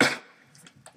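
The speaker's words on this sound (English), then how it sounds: "I'm going to cough right now, so just bear with me." A single close cough bursts out sharply at the start, then fades into quiet with faint small clicks and rustles afterward.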